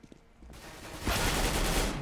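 Sustained automatic gunfire in a Counter-Strike: Global Offensive match on Cache starts faint and grows into a loud, dense stream of shots that holds steady to the end.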